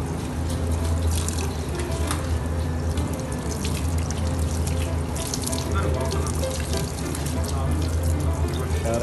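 Kitchen tap water runs steadily into a sink while a fresh fish is rinsed clean of blood, a continuous splashing wash beneath a voice talking throughout.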